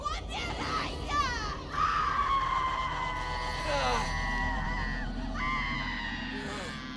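Anguished, wavering screams and cries ring out in the video game Murdered: Soul Suspect, several overlapping voices rising and falling over a low ambient drone.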